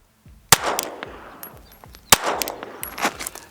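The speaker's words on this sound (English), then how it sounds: "let's go ahead and shoot one-handed and see how she does" A Savage 1915 pistol, 110 years old, is fired one-handed twice at close range, each a sharp crack with a ringing, echoing tail, a second apart.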